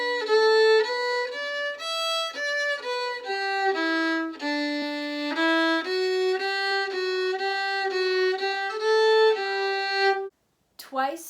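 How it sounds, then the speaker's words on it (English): A lone fiddle plays the second half of the A part harmony of an advanced traditional fiddle tune, a steady run of clear bowed notes up close that ends on a G, then stops, followed by a short noise. "So second half of the harmony A part sounds like this."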